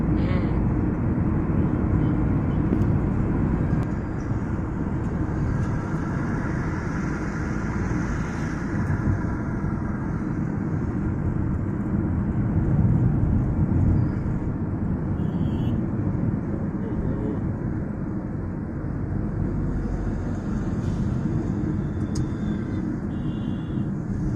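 Tata Tiago CNG car engine running steadily while driving, a continuous loud low rumble with road noise throughout, no voices.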